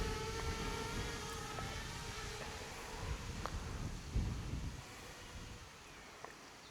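Steady outdoor wind buffeting a microphone during an FPV drone flight, a dense continuous rumble with faint high whine from the drone motors, loud and close, no speech.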